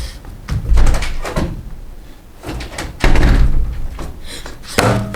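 Door opening and closing in a boarding school dormitory room: a couple of loud, close thumps and knocks with shuffling and rustling around them.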